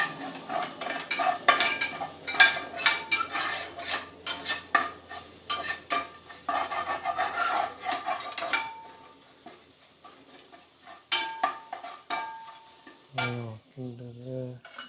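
A spoon stirring mutton gravy in a pan, a busy run of close clinks and scrapes over a soft sizzle, thinning out to scattered taps, followed by a few short low tones near the end.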